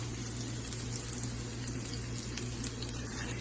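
Tamarind liquid pours into a pan for kathirikai kara kulambu, a steady watery splash and hiss over a low hum, fairly quiet and continuous.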